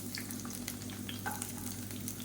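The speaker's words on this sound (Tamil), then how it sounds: "இது எல்லாமே நல்லா வதங்கட்டும்" Shallots and a handful of chopped garlic frying in oil for coriander thokku, giving a steady, close crackling sizzle with light stirring through a short stretch.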